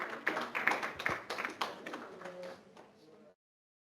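Seminar audience clapping, a burst of scattered close claps with sharp taps that thins out and stops abruptly after about three seconds, with faint voices underneath.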